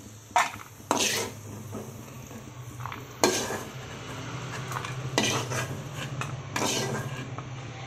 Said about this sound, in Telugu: జీడిపప్పు అయితే వేగిపోయినాయి ఫ్రెండ్స్, చూడండి